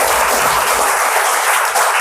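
Loud, dense clapping from an audience at a kids' quiz game show, sustained for the whole stretch and briefly dipping near the end.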